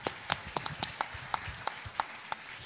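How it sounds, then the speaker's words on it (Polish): Scattered hand claps from a small audience for fighter Alan Kwieciński at a Polish fight event, a dozen sparse sharp claps in uneven rhythm, moderately near, with faint murmur underneath. "Zróbcie brawa dla Alana z tego tytułu."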